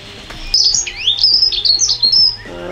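Dunnock song, a fast high warbling chirp run of several bursts, loud and close, with no talking.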